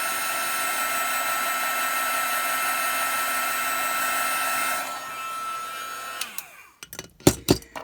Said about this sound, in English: And I'm going to hit this with the heat gun.